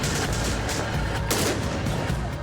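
A fierce firefight with AK-47 rifles and PKM light machine guns, Northern Alliance fighters against the Taliban: continuous, loud, overlapping bursts of automatic fire with heavy cracks throughout and no talk.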